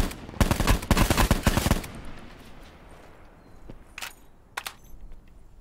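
A video game firefight opens with a loud, rapid burst of automatic gunfire lasting nearly two seconds, followed by quieter ambience and then two sharp, isolated shots.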